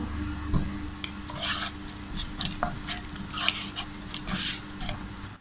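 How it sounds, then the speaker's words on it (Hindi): A spoon stirs apricot chutney cooking in a pan, making repeated scraping and sticky shuffling sounds over a steady low background hum. "अब इसमें थोड़ा सा चम्मच चला लेंगे और आंच थोड़ी सी तेज़ कर लेंगे"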